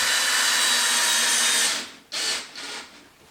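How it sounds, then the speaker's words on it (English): A power drill bores through a piece of plastic while a dishwasher is being fitted, whining loudly and steadily close by before cutting out, followed by a couple of short bursts. "Why you have to drill it, because there's a bit of plastic there."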